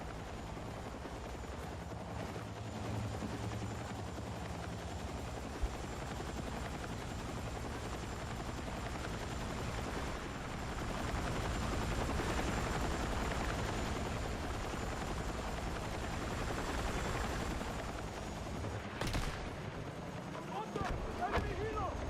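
An enemy helicopter in a military shooter video game drones continuously with a low rotor rumble, under scattered gunfire and someone talking over it.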